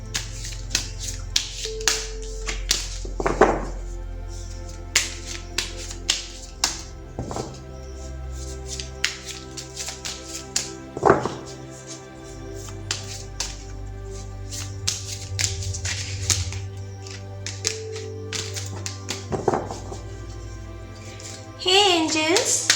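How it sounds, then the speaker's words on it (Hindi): Tarot cards are shuffled by hand in a run of crisp, irregular riffling taps and snaps, close and fairly quiet, with steady background noise underneath. "तो चलिए पहले ज़रा कार्ड्स को शफल कर लेते हैं।"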